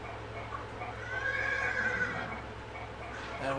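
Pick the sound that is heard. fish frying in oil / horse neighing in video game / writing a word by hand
horse neighing in video game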